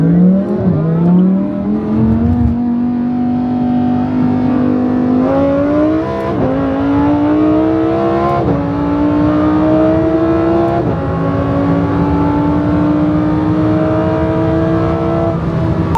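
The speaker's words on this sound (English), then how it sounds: "We're going against the GT-3 RS, another BMW. An Audi versus a BMW." An Audi and a BMW supercar, in a roll race against a GT3 RS in Dubai, accelerate hard, the engine note climbing steadily through several upshifts, loud and continuous with no talk.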